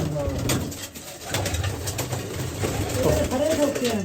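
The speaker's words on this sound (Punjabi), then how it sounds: "ਕਬੂਤਰ ਹੈ ਕਬੂਤਰੀ ਕਬੂਤਰੀ ਆ" Pigeons coo repeatedly close by, soft throaty calls rising and falling, with a voice speaking intermittently underneath.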